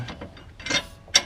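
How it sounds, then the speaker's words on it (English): An impact ratchet snugs up the bottom bolts of a Watts link on a Mustang, giving a few quick, close ratcheting clicks and short mechanical bursts. "this is actually an impact ratchet"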